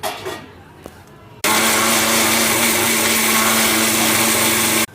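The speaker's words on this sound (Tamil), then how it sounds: "மிக்ஸி," After a short quiet stretch with faint clatter, a mixer grinder starts abruptly and runs loud and steady with a constant whirring roar.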